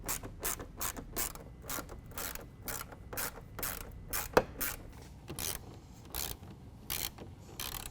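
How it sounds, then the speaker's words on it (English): Rapid ratchet clicks sound up close and fairly quiet as fender flare bracket bolts are tightened on a 2015 Ford F-150, in repeated bursts of short strokes with one sharper metallic clack midway. "we're going to hold the bracket in place and tighten them down"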